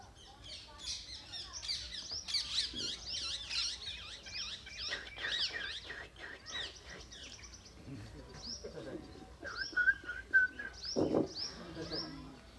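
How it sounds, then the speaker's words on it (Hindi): Birds sing at Vrinda Kund, a dense chorus of chirps and whistled calls near and far, busiest early and thinning to scattered tweets later, with no talk. "तो सब पक्षी क्या बोल रहे हैं"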